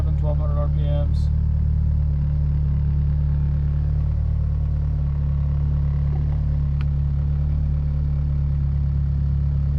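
A Mitsubishi Evo IX engine idles steadily at about 1200 RPM during its warm-up cycle, running slightly rich while being checked for a misfire; a constant low rumble, close and loud, with a brief voice early on.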